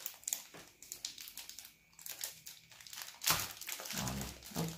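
Plastic packaging around Faber-Castell fineliner pens being unwrapped, with close crinkling and crackling in irregular bursts and a louder tearing rustle near the end.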